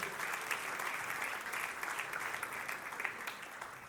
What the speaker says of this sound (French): On veut vous applaudir bien fort et vous honorer.